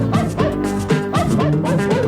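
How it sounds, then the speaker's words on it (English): Dalmatian dogs bark in a quick run of yips and bow-wows playing from a TV, the barks strong and close over a steady backdrop of other sound. "Those are Dalmatians."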